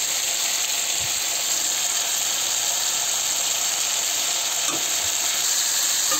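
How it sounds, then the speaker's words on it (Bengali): Ridge gourd and potato pieces fry in a pan with a loud, continuous hiss of sizzling oil and a few faint clinks beneath it. "সবজিটাও ঝিঙে আলুটাও প্রায় ভাজাই হয়ে গেছে।"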